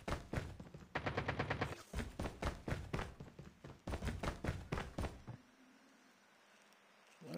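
Rapid bursts of automatic gunfire in a Call of Duty battle royale match, several loud rattling volleys with short gaps, ending in a quieter stretch of game ambience.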